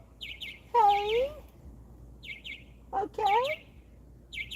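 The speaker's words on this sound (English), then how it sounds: "I love my crows." Crows call outdoors on a hot summer street, giving a few harsh, sliding caws in two bursts with short chirps in between, moderately close against a quiet background.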